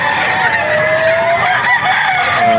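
A three-year-old Kelso gamefowl rooster crows loudly and close at a pet market, one long sustained call over busy background noise.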